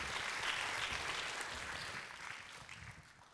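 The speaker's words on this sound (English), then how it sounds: "let's give them another warm applause" Warm audience applause for speakers at a talks session, a dense continuous patter of many hands that slowly tapers off, heard somewhat distant and quiet.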